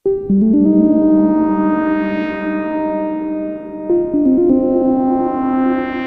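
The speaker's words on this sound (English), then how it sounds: "You can hear the filter cutoff moving up and down." A sustained synth bass tone from the IONA synth on an MPC, with a buzzy, shifting timbre as its filter cutoff sweeps up and down, the note jumping in pitch a few times; no voices.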